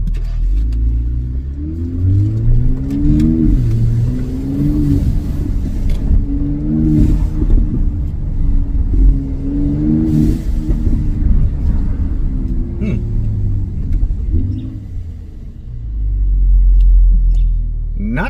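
A 2021 Mercedes-AMG GLC 43 with the M276 engine and a fitted blow-off valve drives on the road, rumbling and revving in repeated rises and falls. The engine is loud and close, cabin-level, with a heavier surge near the end.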